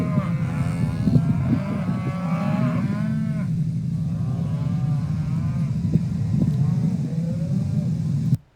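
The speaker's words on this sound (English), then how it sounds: "Don't know if you can hear the mooing in the background." Cattle lowing at a ranch spared by extreme wind-driven wildfire, several long harmonic moos in the first seconds over steady loud wind rumble, fainter calls continuing later.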